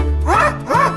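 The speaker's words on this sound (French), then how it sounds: "la seule que j'ai obtenue a été un aboiement de clébard." A dog gives two quick, close barks in succession, short and sharp with a slight yip quality.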